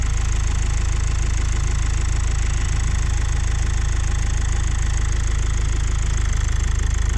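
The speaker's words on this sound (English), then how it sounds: "It is a diesel engine, so of course" A 2013 Mazda 6 Skyactiv diesel idles cold, a steady low rumble with a faint clattering knock running unbroken and fairly close throughout.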